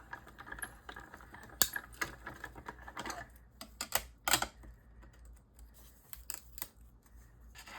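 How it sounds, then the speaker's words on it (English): An embossing-style die-cutting machine rolls cutting dies through for fabric, giving quiet irregular clicks and crackles along with a few sharper snaps over several seconds. "You can hear the dies cracking a little bit."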